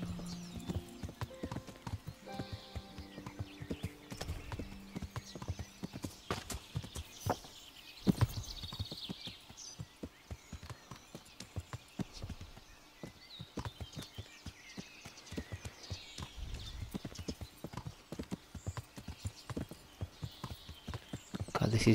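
Horse hooves clip-clop steadily while riding in the medieval video game Kingdom Come: Deliverance, a continuous rhythmic patter under game ambience, with occasional whinnies and a spoken voice over parts.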